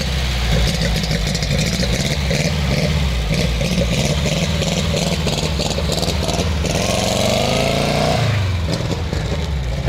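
A newly bought car's engine revs continuously while warming up, loud and close, rising and falling with a final rev sweeping up then dropping off near the end.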